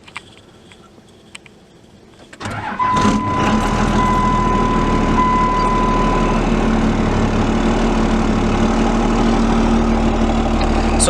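Diesel truck with an exhaust stack fires up after a quiet start, then settles into a loud, steady idle with a deep rumbling drone and slight knocking texture, continuing unbroken with no talking.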